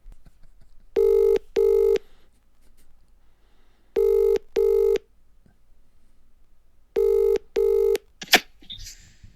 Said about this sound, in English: Let's try a phone call.